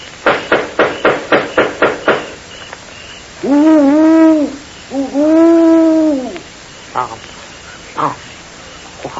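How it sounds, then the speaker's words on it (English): A run of steady tapping knocks, then two long, wavering hoots with a rough, almost human tone, fairly close and loud in a quiet night setting. "More likely just an owl."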